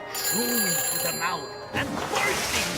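A telephone rings after a number is dialed, a loud, sustained electronic ringing tone with a voice speaking over it partway through.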